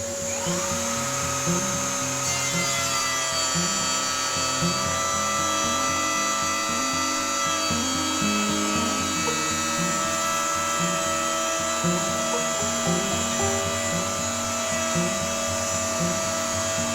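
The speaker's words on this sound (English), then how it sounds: "it's time to take the router along this edge and trim this to a 0 clearance with the router bit" A handheld router trims the glued-up edge of a bookshelf flush, its high motor whine steady and loud for the whole stretch, with cutting noise rumbling underneath and no talking.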